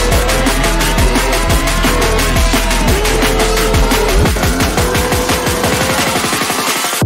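A loud, dense electronic dance music build-up with rapid repeating hits that accelerate into a snare-roll style rush, with filtered glue-compressed layers sweeping upward over about seven seconds, no voices.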